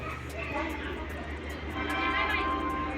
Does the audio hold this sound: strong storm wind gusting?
no